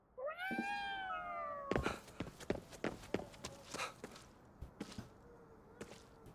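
A cat in the video game Ghostwire Tokyo gives a rising, drawn-out meow, followed by a run of soft footsteps and clicky game sounds at low level.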